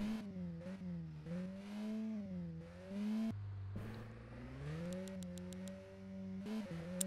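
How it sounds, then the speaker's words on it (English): A video game car engine revs during a gear dyno test on a four-speed gearbox, rising and falling through several long sustained pulls and shifts, loud and close with no talk over it. "Reach the gear displayed, hold the engine revs"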